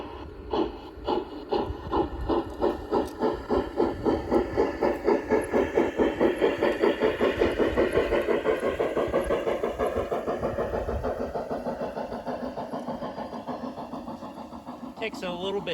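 An LGB French Mikado model train locomotive runs along the track with a fast, regular chuffing pulse that stays loud and close before easing slightly toward the end.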